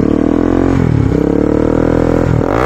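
Bajaj Pulsar NS200 motorcycle on its stock exhaust, revved close up: a loud, continuous buzzing engine note that rises and dips through a couple of throttle blips.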